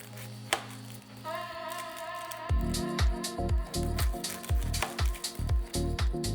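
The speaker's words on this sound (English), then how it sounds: "So we're gonna cut our onion here." Knife cutting a red onion on a board, several sharp crunching chops in a steady rhythm after a quiet start with a faint hum, close and fairly crisp, no voices.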